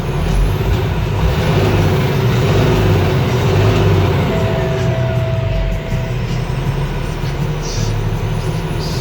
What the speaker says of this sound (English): I start the truck, I rev the truck, I rev it up